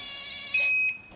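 A digital scale beeps while a guitar is weighed in a living room, a short electronic tone of about half a second rising over a faint steady high whine, with no talk.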